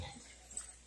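Six-week-old puppies give a short, faint whimper, a brief thin yip rising out of low background noise for under a second.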